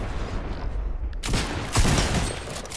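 Gunfire in Fortnite: a dense rattling burst of rapid shots, with a sharper louder blast partway through, over steady game noise.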